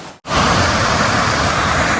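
Spearfish Falls in the Black Hills pours as a steady, loud broadband rush of falling water, beginning after a brief near-silent gap and continuing unbroken with no voices.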